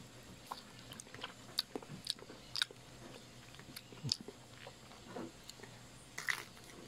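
Someone bites into and chews durian fruit up close, with scattered soft crunches and wet mouth clicks at an uneven pace over a quiet background.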